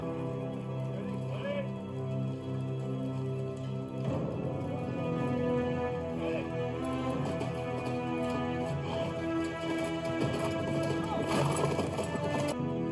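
A spooked horse whinnies while hooves clop in a steady rhythm, mixed with music and other sound effects from a dramatic scene.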